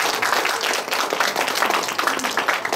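An audience at a humanities lecture in the Daejeon Donggu Cultural Center hall claps to welcome a professor, giving a steady, fairly loud patter of many hands that carries on without a break.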